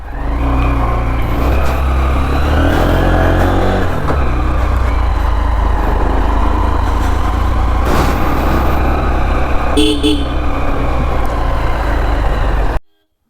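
A motorbike revs loudly and continuously as the ride begins on the road from Gangtok toward Murshidabad, close engine drone with traffic noise and a couple of horn toots mixed in.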